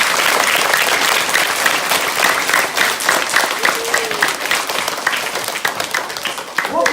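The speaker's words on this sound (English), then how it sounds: "give yourselves the world's biggest clap" A large crowd at a school awards ceremony claps loudly and continuously, a thick, even wash of applause filling the whole stretch with no talk over it.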